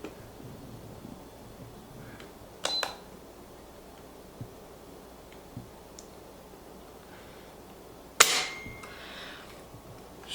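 A factory Marlin rifle trigger pulled against a trigger gauge gives a sharp mechanical click near 2.7 seconds and a louder, crisper snap near 8.2 seconds, with faint small ticks between them over quiet room noise.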